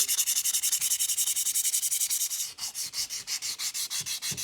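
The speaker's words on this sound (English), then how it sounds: "Here's some 400 grit sandpaper." A rusted axe head is hand sanded with 400 grit sandpaper: steady, close, rhythmic rasping strokes, fast and even at first, then slightly slower and more spaced, with no voices.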